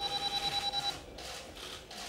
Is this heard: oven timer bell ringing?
yes